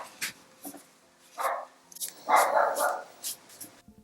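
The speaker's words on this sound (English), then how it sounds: "The barking you can hear in the background is my neighbour's dog, Mabel." Mabel, a neighbour's dog, barks in the background in a string of short, separate woofs with small gaps between them, moderately loud and slightly distant.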